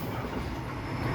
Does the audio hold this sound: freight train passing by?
yes